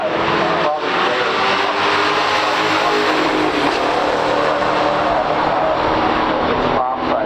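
A 1969 Mustang Super Cobra Jet and a 1971 AMC Hornet SC360 in a stock drag race, engines roaring loudly and steadily at high revs throughout, close and sustained with a brief dip near the end.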